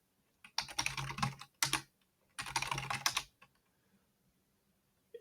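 Fingers type a password on a computer keyboard in two quick bursts of close, crisp key clicks with a brief pause between, then silence.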